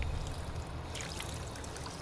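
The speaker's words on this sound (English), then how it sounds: "let me drink some water" A character drinks water in the game Fallout 4, a steady gurgling pour and trickle effect that plays alone for a couple of seconds at moderate level.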